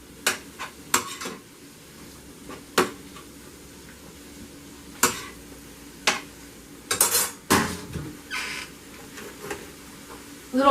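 Stuffed bell pepper filling being stirred in a pan, with sharp metallic scrapes and clanks of a spoon against the pan at uneven intervals over a faint sizzle, no talking.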